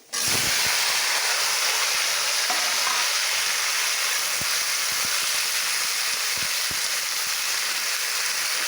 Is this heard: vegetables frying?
yes